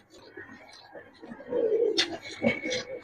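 A male pigeon, one of a pair of coloured fancy pigeons for sale, coos in a low, throaty burst near the mic, with soft background murmur and a brief clatter around it.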